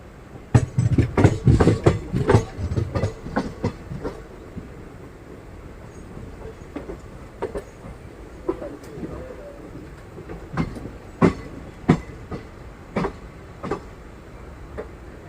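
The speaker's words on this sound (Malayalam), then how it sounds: "നമ്മുടെ ട്രെയിൻ എങ്ങനെയാണ് അപ്പം ഭാരതപ്പുഴക്ക് മുകളിലൂടെയുള്ള റെയിൽവേ ബ്രിഡ്ജിലൂടെയാണ് ഇപ്പോൾ പോയിക്കൊണ്ട് നിൽക്കുന്നത്." Passenger train rolling across the railway bridge over the Bharathapuzha river, a steady rumble with repeated sharp clacks of wheels on rail joints, louder at first and then continuing as a lighter rhythmic clatter.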